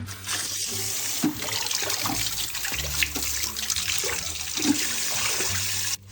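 Tap water runs steadily over a toy sponge in a sink, a continuous splashing stream with small bumps and spatters, close and fairly loud with no talking over it.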